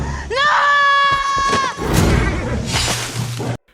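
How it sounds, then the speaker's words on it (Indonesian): A long, loud scream rings out in a tense chase scene from Kingdom of the Planet of the Apes (2024), followed by crashing, rumbling action noise before cutting to silence. "dia secara mengejutkan berteriak memanggil nama Noah"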